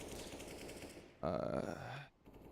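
A grenade explodes in a Counter-Strike match, a loud sudden burst with a ringing tail lasting nearly a second, rising over a steady wash of gunfire and game noise before cutting away.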